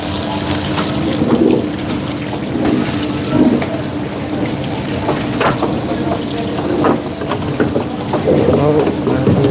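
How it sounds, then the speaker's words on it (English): Cold tap water runs steadily into a pot for chicken bone broth, a continuous close splashing and gurgling with clatters of the pot, while someone talks over it. "I'll show you once I fill it up with water what it looks like."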